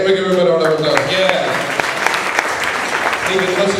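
Students in a classroom give a short burst of applause, a close, dense patter of clapping with voices talking and calling out over it.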